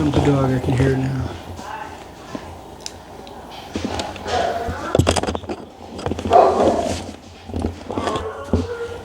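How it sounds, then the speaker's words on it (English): A large 180-pound dog approaches indoors in a home, with a few short barks and scuffling sounds, while people talk over it. "Here comes the dog, I can hear it now."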